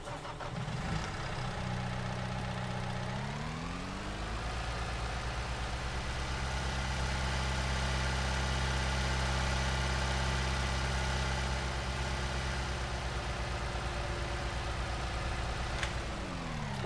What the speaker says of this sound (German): Und dann mache ich nochmal eine Runde den Motor an und wir drehen nochmal eine Runde.